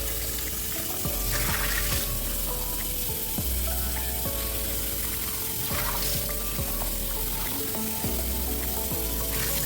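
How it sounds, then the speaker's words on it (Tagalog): Hot water is poured over meat for a bean stew to rinse it, a continuous splashing rush with a hissing sizzle and faint knocks of the pot or utensils. "Pwede nyo itong pabuhusan ng mainit guys para mawala yung mga dumikit-dikit sa kanya."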